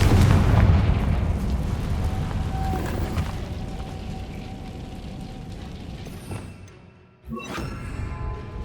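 A Confringo fire spell explodes in Hogwarts Legacy with a loud, booming blast up front that decays into a long rumbling tail, followed by a short quieter second burst near the end.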